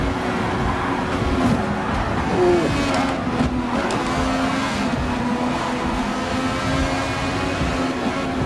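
A pack of race cars drives past, with engines droning loudly and continuously and pitches rising and falling as they shift and accelerate. Several pass close in a dense cluster, with no talking.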